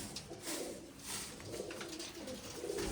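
A pigeon coos in low, throaty bursts outdoors, the rolling calls repeating at moderate volume against a bright, noisy background.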